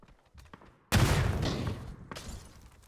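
In a competitive video game scrim, a thrown grenade bounces back in and explodes with one sudden loud blast that trails into a noisy rumble, followed by fainter game sounds.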